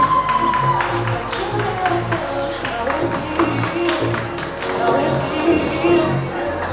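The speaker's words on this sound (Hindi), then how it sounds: "Thank you very much for this round of applause." Audience applause at a felicitation ceremony, steady clapping from a crowd with scattered cheers, running under amplified music and voices throughout.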